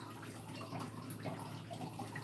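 Water runs steadily from a tap onto a gardening plate during plant thinning and potting, a continuous close splashing rush that holds at an even level for the whole stretch, with no voices.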